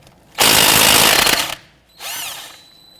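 A power tool loosens the 19mm caliper bracket bolts on a 2006-2014 Honda Ridgeline front wheel. It gives one loud, rattling burst of about a second, then a shorter rising whir. No voices.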